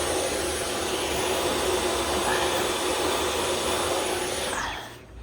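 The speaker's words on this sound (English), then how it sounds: "I'll vacuum the next bay." Vacuum cleaner running steadily while dusting shelf bays in a collectibles shop, a loud continuous whining roar that holds for about five seconds before cutting off at the end.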